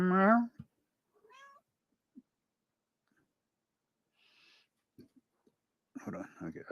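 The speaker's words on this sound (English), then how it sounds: "I got distracted by my cat." A pet cat gives one loud, close meow at the start. A few faint scattered sounds follow over a near-silent stretch, and a person's voice comes in near the end.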